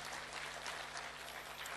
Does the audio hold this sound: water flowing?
no